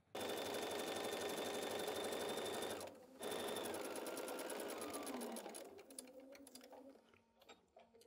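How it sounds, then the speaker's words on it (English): A sewing machine stitches a fabric basket seam with a fast, steady hum, stops briefly, then runs again and slows into scattered clicks and taps near the end. "I'm going to start sewing here, back tack all the way around, and back tack here."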